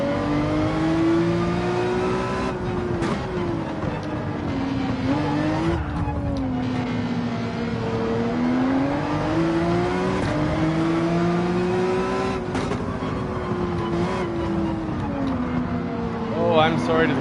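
Race car engines in Gran Turismo 7 hold a loud, continuous drone that rises and falls with gear changes and throttle, with brief tyre squeal, while a voice talks over it.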